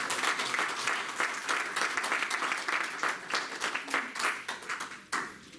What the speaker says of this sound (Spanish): ¿Cuánto aplauden al Señor por eso,